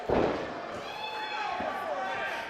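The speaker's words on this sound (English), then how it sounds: "is met with a chunk of the door" During a wrestling match, a chunk of a door slams into a wrestler with one heavy thud at the start, followed by ongoing crowd noise and voices.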